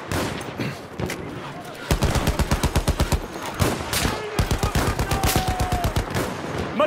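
Machine gun fire in the World War I shooter game Battlefield 1 on the Cape Helles map, with rapid bursts of loud, evenly spaced shots, a short pause, then more sustained bursts amid battlefield noise.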